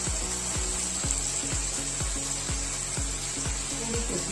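Tomatoes fry in oil in a pan for Kolhapuri misal, making a quiet, even sizzle alongside a regular ticking or tapping that repeats about twice a second throughout.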